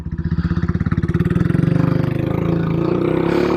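Royal Enfield Classic 350 motorcycle with a chrome exhaust pipe, its single-cylinder engine thumping in rapid, even pulses and then revving up into a smooth, loud, sustained drone, close by.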